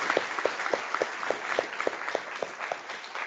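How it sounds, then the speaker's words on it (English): Audience members at a cybersecurity conference opening session clap in a faint, even rhythm, with the claps landing at a regular pace over a soft hiss. "So give yourself a round of applause for that."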